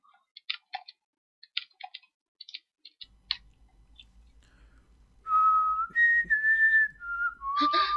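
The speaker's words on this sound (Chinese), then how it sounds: "一边吹口哨" A male student character whistles a short melody in the mystery RPG Super Sunday: a few sparse, soft game clicks come first, then a clear, loud whistled tune of sliding notes over a low rhythmic pulse.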